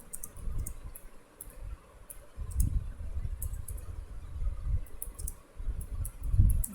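Typing a story on a computer keyboard, a loose run of light clicks and taps, close and soft, over a low room rumble with no talk.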